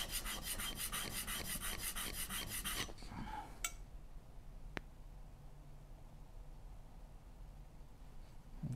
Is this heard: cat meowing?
no